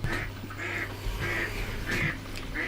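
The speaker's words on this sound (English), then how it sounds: "there's my female mallard being very obtrusive into this video" A female mallard duck quacks in repeated short bursts, about five calls spaced roughly half a second apart, fairly close and loud over a steady low indoor hum.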